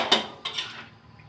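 A metal spatula knocks twice against a wok while duck is stir-fried, two sharp, ringing clanks about a third of a second apart, close and loud, with the second fading into a metallic decay.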